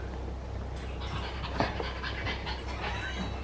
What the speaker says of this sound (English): You are breathing so loudly, Boo.